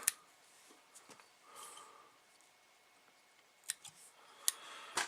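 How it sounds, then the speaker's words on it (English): Scissors trimming excess body material while tying a Holo Graphic Bugger fishing fly, giving a few quick, faint snips close by against a quiet background. "let's trim off all this excess that we got going on over here"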